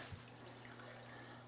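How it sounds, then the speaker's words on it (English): Water pours steadily out of a drain hose on a Maytag washer being repaired, a continuous faint trickling flow under a low electrical hum, with no talking. "water comes gushing out of there"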